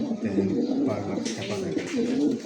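Pigeons coo in low, throaty, repeated rolls close by, several calls overlapping in a steady rhythm.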